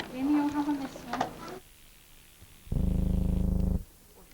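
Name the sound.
cat purring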